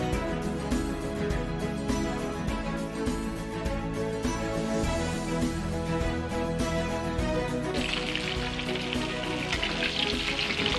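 Chicken legs and tilapia getting a second fry in hot oil, a steady dense sizzle running the whole time and turning brighter and hissier toward the end, close up, with no talking.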